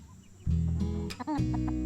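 Chickens in a backyard coop making soft clucks and short calls close by, a few brief vocalizations over low background noise, with no speech.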